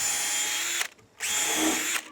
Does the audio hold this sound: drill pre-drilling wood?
yes